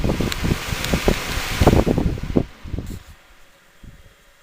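A Fisher-Price toy fan refitted with a freshly oiled motor from a Honeywell humidifier blows with a close, uneven whoosh and light rattling, then winds down and fades toward quiet.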